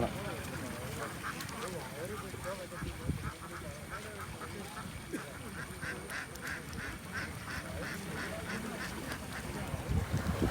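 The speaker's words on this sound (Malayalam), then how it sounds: "എന്താ പറഞ്ഞ താറാവ് ഇങ്ങനെ" Ducks quacking repeatedly at Karoorkavu, Piravom, a steady chorus of calls under continuous outdoor chatter and people talking nearby.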